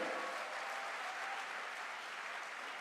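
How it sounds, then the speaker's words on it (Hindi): A crowd at a direct selling promotion event gives a round of applause, a continuous, dense clapping from many hands, moderately distant and steady throughout. "तो जोरदार तालियां एक बार बजाइए"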